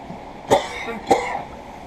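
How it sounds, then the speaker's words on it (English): Two sharp coughs about half a second apart, close and fairly loud, with a brief quiet pause between them. "I really apologize for this coughing"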